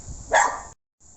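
A single dog bark sounds at moderate distance over low traffic rumble outdoors, a short sharp burst followed by a moment of silence and faint background noise returning.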